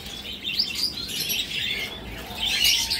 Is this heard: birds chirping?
yes